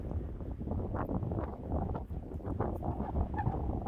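Gusty wind buffets the microphone in a steady low rumble with no voices, rising and falling slightly throughout.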